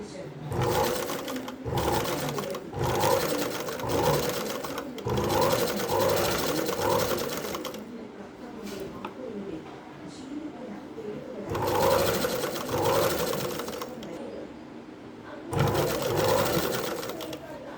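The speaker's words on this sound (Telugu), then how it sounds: "ఇది ఇలా లైన్గా చీర మీద పక్కకు వెళ్ళకుండా ఇలాగే కుట్టాలి." A sewing machine stitches a zigzag fall onto a saree edge in close, rapid mechanical runs, working in several bursts separated by brief quieter pauses.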